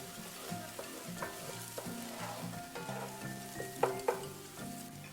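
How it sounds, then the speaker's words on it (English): Garlic frying in a little olive oil in a pan for Filipino beef salpicao, a soft steady sizzle with intermittent scrapes and taps of a utensil stirring, close and fairly quiet. "So it's just a little bit of olive oil and garlic."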